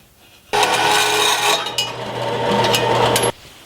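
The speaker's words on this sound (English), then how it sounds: "I'm going to go ahead and drill that hole." A power drill bores a hole through a flat metal LED light bracket, a steady loud grinding whir running about three seconds alone before cutting off abruptly.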